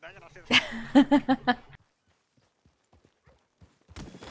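Horse hooves clip-clop in a roleplay video game, a quick run of about five close, loud hoofbeats over a second, then near silence before a voice briefly returns.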